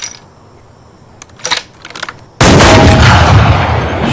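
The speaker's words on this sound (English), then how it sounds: "Reacher practices long-range shooting and proves he can match the sniper's shots" A rifle fired at a long-range shooting range, one sudden loud blast that cuts in after a few faint clicks and rustles and then holds as a heavy, sustained roar.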